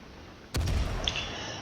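A ship's main guns fire in World of Warships with one sudden heavy boom that rolls into a long rumbling decay, loud and alone with no talking.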